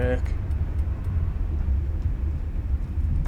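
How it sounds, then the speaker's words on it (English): Airliner engines roar in reverse thrust during landing in Flight Simulator, a loud, steady low rumble that holds without a break. Faint speech may sit underneath. "Reverse thrust."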